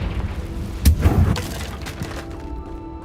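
Confringo blasting curse from Hogwarts Legacy: a single muffled, thudding burst close up, rising sharply and fading over a second amid a low game rumble.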